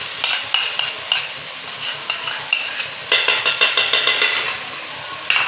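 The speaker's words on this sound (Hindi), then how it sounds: "अदरक लहसुन का पेस्ट, ये अब डाल लेते हैं।" Ginger garlic paste sizzles in a hot frying pan as it is stirred, with a steady close crackle and regular scraping strokes of a utensil against the pan.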